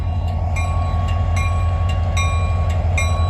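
BNSF freight train rolling past on the main line, a loud continuous low rumble with rhythmic wheel clicks and faint squeals, close and unbroken throughout.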